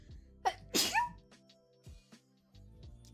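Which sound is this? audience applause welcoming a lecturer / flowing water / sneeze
sneeze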